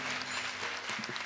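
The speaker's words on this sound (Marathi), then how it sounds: "त्यांच्यासाठी जोरदार टाळी वाजवा माईबाप एकदा" An audience at a kirtan claps for the mridang player, a brief burst of dense, steady applause from the crowd with no voices over it.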